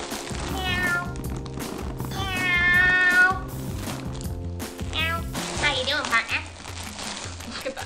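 A cat meows several times, drawn-out and close, with a crackling, sizzling noise running underneath.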